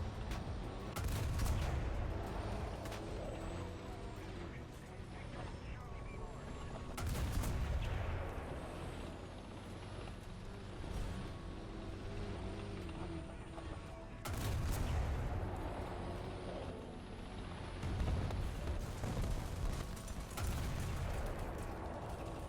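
Challenger DS tank in War Thunder firing its main gun point-blank into an enemy turret: several heavy, booming cannon blasts spaced seconds apart over a steady engine rumble, with no talking.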